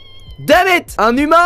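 A video game cat meows twice, rising and falling, loud and close, with a voice speaking briefly over the start of the cries.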